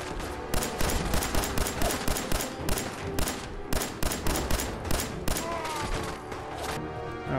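Gunfire rattles through Fallout 4 VR in rapid, evenly spaced bursts, steady and fairly loud over a dense game soundscape for several seconds, with no clear talk.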